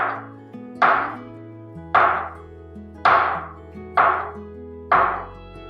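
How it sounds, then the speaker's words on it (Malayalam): A knife chops salad ingredients into long thin strips for a mango carrot salad, six sharp, evenly spaced cuts landing about once a second against a board, close and clear with no talking. "നമുക്കിതുപോലെ മാങ്ങ അരിഞ്ഞ പോലെ നീളത്തിൽ ഇങ്ങനെ അരിഞ്ഞരിഞ്ഞെടുക്കണം"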